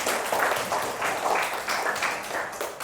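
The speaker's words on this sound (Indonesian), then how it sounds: "Beri aplaus untuk kita semuanya." Schoolchildren in a classroom clapping together, a dense burst of applause that carries on steadily with rhythmic swells, close and lively.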